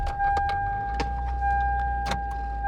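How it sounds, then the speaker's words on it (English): The engine of a 2001 Toyota Camry being repaired for a high idle fault cranks and catches, then settles into a steady, close, loud running hum with faint clicks and a steady whine over it. "Let's start the car."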